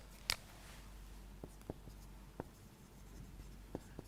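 Chalk or marker writing on a board during a maths lecture, a sharp scrape followed by faint scattered taps and short strokes at an irregular pace, quiet in a still room.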